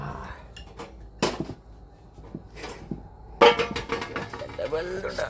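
Metal kitchen tins clatter and clank as someone rummages through them, with bursts of sharp tinny knocks and scrapes separated by quieter gaps, fairly close by and under light talking.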